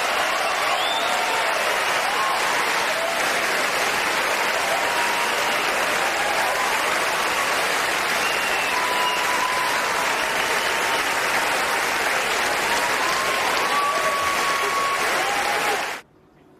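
A large awards-show audience breaks into raucous applause and a standing ovation as Roman Polanski's name is called, loud dense clapping with scattered cheers sustained throughout before cutting off abruptly at the end.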